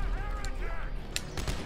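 Explosions and gunfire in the survival-horror game Dead Space 3, a few short sharp bursts and booms over a busy in-game soundscape, fairly brief and mid-level.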